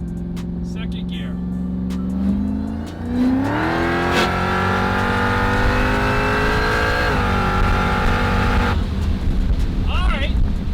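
A Dodge SRT-10 fitted with a Demon engine and a 480 transmission launches in second gear, its loud engine note sweeping sharply upward and holding a hard high roar before easing off near the end.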